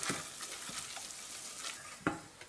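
Flour roasts dry in a pan while a spoon stirs it, giving a continuous soft sizzle and scraping close by, with a sharper clink of the utensil near the end.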